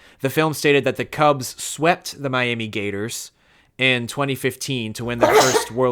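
A single short sneeze bursts out near the end, just after someone speaking during a cinema game night discussion, loud and close, with his talk resuming around it.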